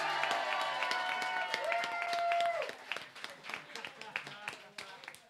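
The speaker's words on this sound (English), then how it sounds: "a round of applause for your winner." An audience applauds the winner of a roguelike gaming tournament with a scattered round of claps that continues under a speaking voice and slowly thins out.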